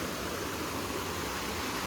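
Water flows steadily in a stream at Pokharbav Ganpati temple, a continuous, even rushing wash heard up close with no other sounds.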